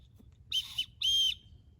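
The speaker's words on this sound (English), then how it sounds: "But it also on the back has a whistle." Two short, shrill blasts from a small survival kit whistle sound close by, the second slightly longer, against a quiet background.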